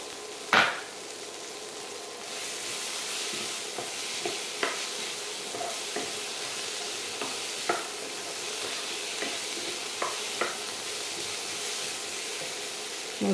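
Beef stirred and frying in a pan, a steady close sizzle broken by regular scraping clicks from the stirring spoon, with no talking.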